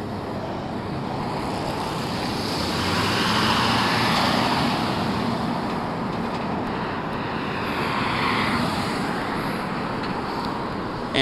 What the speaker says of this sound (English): Here we are waiting for this car.